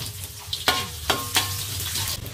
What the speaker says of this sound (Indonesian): Dan ini minyaknya saya mau buat goreng bawang merah.